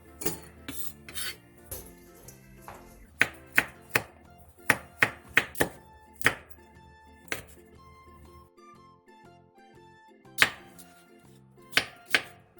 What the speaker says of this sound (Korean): 청양고추 6개를 큼직하게 썰고 홍고추 6개는 어슷썰게 해주세요.